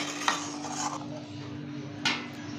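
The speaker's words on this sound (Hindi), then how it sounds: "घोट के और पूरा अच्छे से मिला के फेंट लेंगे।" Spoon stirring and beating corn halwa with sugar in a pan, giving close scraping and clinking strokes with two sharper knocks, over a faint steady hum.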